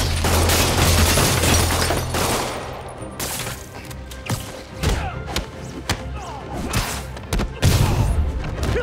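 Gunfire and heavy thuds from a street shootout in Marvel's Spider-Man on PS5, with criminals shooting at the hero; a dense opening burst of shots gives way to scattered impacts and bangs, with voices briefly underneath.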